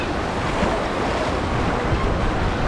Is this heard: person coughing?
no